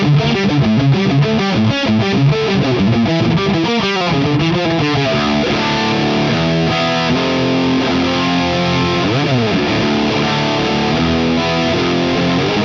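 A heavily distorted electric metal guitar riff in standard tuning plays loud and continuous, with chugging low notes and bending chords and no voices.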